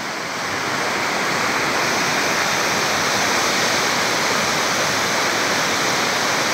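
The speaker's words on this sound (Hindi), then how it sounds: "ये बहता पानी देखें आप, कितना खूबसूरत पानी है" A stream in Bahrain rushes in a broad, steady hiss of flowing water, loud and close, continuing unbroken with no voices over it.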